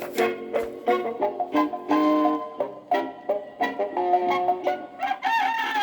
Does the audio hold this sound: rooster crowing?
yes